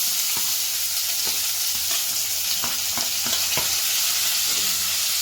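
Mustard seeds and onions fry in a hot pan for a tomato curry, giving a steady loud sizzle with scattered sharp pops and crackles throughout.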